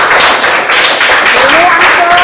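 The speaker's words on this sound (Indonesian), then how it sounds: "Ya, tepuk tangan untuk kelompok 3." A classroom of students applauds for a presenting group, steady dense clapping filling the whole moment with a faint voice threaded underneath.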